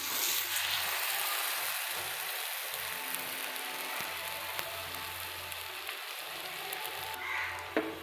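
Naan fries in oil on a tawa with a constant, close, crackling sizzle and occasional small pops, and no talking.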